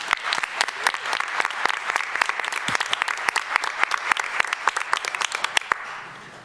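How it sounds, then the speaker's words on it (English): Applause at a city council meeting, a room of people clapping with distinct, crisp individual claps in a fairly close, steady burst that tapers off at the end. "I'm going to give you a round of applause."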